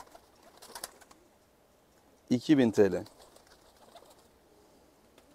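Hünkar tumbler pigeons of a high-flying type give one short, fairly close burst of cooing. Someone speaks briefly beforehand.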